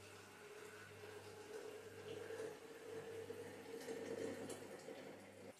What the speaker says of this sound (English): You're going to pour water in the jar